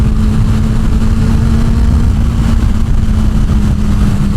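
A 2023 Kawasaki ZX10-R with a full Graves exhaust runs loud and steady, a continuous close engine hum with a firm low drone and road noise throughout.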